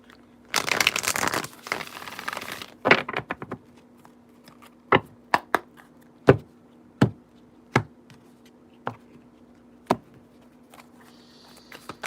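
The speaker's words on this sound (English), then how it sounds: "All right, last shuffle." A dense burst of tarot cards being shuffled and riffled, followed by a series of sharp, separate taps as cards are laid down one by one.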